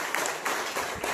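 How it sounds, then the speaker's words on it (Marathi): An audience claps at a Guru Purnima music school function honoring an award recipient, a short burst of dense, continuous applause at moderate volume. "जोरदार टाळ्या द्या आपण"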